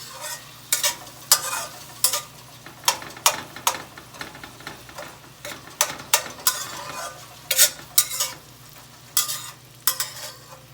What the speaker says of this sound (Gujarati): હવે ડુંગળીને અને ટામેટાને સાંતરી લઈએ તેલમાં